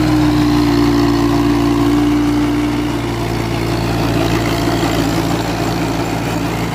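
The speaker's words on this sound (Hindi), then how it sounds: "अगर हम आवाज की बात करें तो भाई बहुत ही बढ़िया आवाज है ट्रैक्टर की।" A VST Shakti tractor's Mitsubishi diesel engine idles steadily nearby, a constant low, throbbing rumble that holds for several seconds with no voices.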